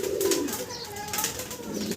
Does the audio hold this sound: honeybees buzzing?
no